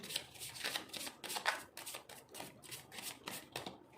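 A deck of oracle cards is shuffled by hand, a soft, close run of repeated riffling and flicking bursts in quick succession, fairly quiet throughout.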